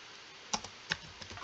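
A computer keyboard clicks as a web link is typed, two distinct keystrokes followed by a few lighter taps, quiet and close in a calm room.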